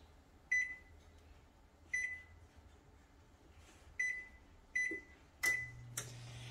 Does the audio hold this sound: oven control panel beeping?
yes